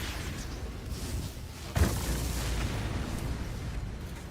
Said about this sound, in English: pretty fireworks